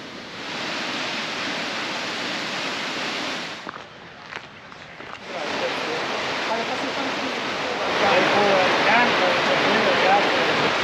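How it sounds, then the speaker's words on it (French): Svartifoss waterfall in Iceland roars as a broad, steady rush of falling water; it briefly drops away and then returns, growing louder toward the end as if coming nearer. "là on arrive à la célèbre cascade qui s'appelle Svartifos."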